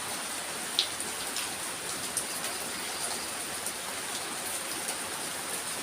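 Steady rain falls throughout, a dense even hiss with scattered brighter drops pattering close by.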